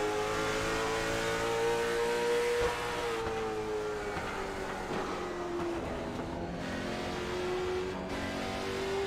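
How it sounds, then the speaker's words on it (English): Late model stock car engine at Thompson Speedway, roaring steadily with pitch rising and falling as the driver works the throttle through the corners, with faint uneven stuttering under a constant racing drone. "You hear that little stutter too on the throttle there, having to brake in and out"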